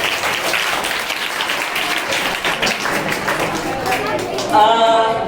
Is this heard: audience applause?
yes